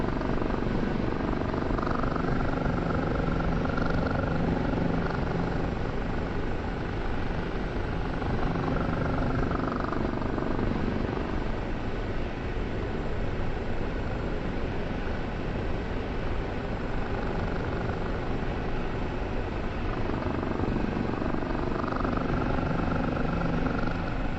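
A Kiowa helicopter in the DCS flight simulator drones steadily throughout, its engine and rotor wash forming a constant close hum with no talking.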